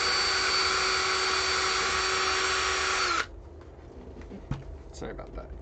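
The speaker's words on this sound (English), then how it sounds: "Time to drill." A power drill whines steadily and loudly for about three seconds while drilling a 3D print being prepped for molding, then stops, leaving a quiet room with a few faint clicks and knocks.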